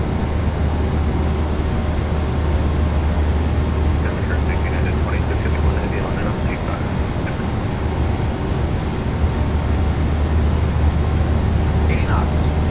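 A PMDG 737-800 in MSFS2024 rolls down the runway at takeoff power, a steady loud jet engine roar and rumble throughout, with faint cockpit sounds.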